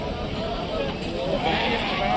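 Sheep and goats bleat amid the steady bustle of a rural weekly livestock market, with continuous crowd noise and people talking throughout.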